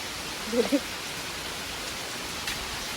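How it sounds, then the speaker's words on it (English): A continuous, dense hiss of heavy, windy rain pours down, with a couple of faint brief knocks early on and no talking. "It's raining a lot."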